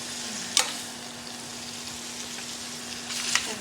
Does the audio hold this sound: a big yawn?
no